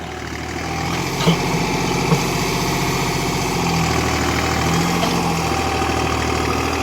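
A 50 HP tractor engine drones loud and close as it pulls a five-tine plough through wet field soil, a steady low rumble with faint knocks and no voices.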